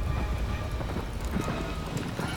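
Horse hooves clatter in a quick, continuous clip-clop in Shadow of the Colossus, close and steady over game ambience with no talk.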